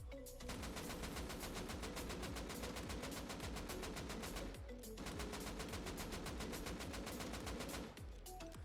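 Sustained automatic fire from an AK rifle in Rust Console Edition, a steady rapid stream of shots in two long bursts separated by a brief pause, loud and unaccompanied by talk.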